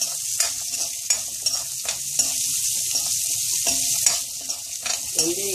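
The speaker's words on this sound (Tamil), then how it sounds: "வெங்காயம், பூண்டு அதோடு சேர்த்து போட்டு நல்லா கொஞ்சம் வதக்கிண்டு" Onions and garlic sautéing for a fenugreek-leaf gravy, a continuous close sizzle broken by repeated spoon scrapes and stirring clinks, with no voice.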